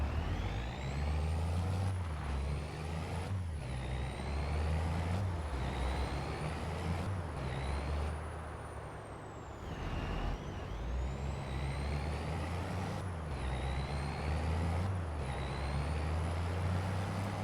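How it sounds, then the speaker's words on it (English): A loaded truck in Farming Simulator drones along with a steady low engine rumble and a thin high whine, easing off briefly midway before building back, with no talk. "I can definitely feel the weight in this truck."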